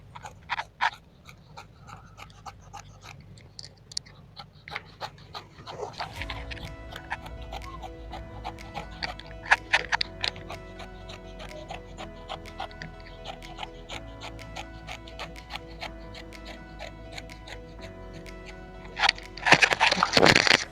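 Scissors snip through marked fabric while a gown is being cut out, leaving sharp clicks and crisp crackles at close range. A dense stretch of cutting runs from the middle onward, with a brighter burst near the end, and no talk.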